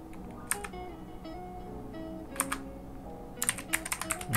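Bursts of computer keyboard typing as Java code is entered in Android Studio, a short cluster of keystrokes, a pause, another cluster, then a quick rapid run of clicks near the end, close and fairly quiet.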